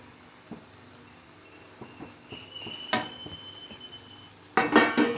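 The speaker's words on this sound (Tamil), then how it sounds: "இப்போ இதோட சேர்ந்து நல்லா அடி பிடிக்காத மாதிரி கிண்டணும்." Kothu parotta mixed with egg masala is stirred in a metal pan, with faint spatula taps and scrapes that build into a louder clatter of metal near the end.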